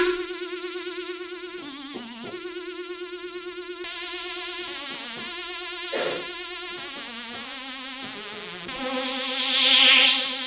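A Korg MS20 synthesizer holds a loud, continuous buzzing tone that wavers and bends in pitch like an insect, with quick modulated sweeps and a rising-falling whine near the end.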